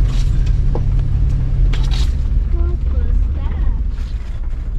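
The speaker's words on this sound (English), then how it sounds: "Fording a fjord with a Chevy" A Chevy 4x4 truck fords water on a muddy off-road trail, its low engine rumble giving way to bursts of splashing amid gusty wind noise on the microphone.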